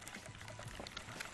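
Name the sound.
pouring water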